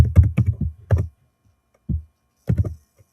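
A few clusters of keystrokes tap on a computer keyboard while Python code is entered, close and crisp, separated by quiet gaps and a lone key press at the end.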